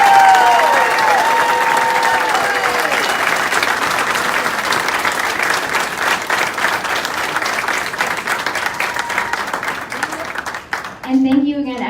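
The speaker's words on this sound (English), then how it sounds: "if we can give one more round of applause for this group up here" An induction ceremony audience breaks into a long round of applause, dense and loud throughout before tapering off, with a brief voice emerging at the very end.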